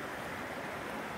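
A flowing river in Alpine National Park, Victoria, rushes with a steady, soft broadband wash, faint and even throughout with no talk.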